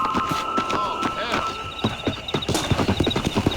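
Horse hooves clip-clopping at a gallop in Red Dead Redemption, with a whinny and game music mixed in, and a voice talking over the rhythmic beats.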